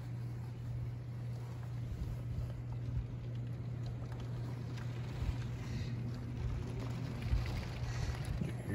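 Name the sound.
wind during a rainstorm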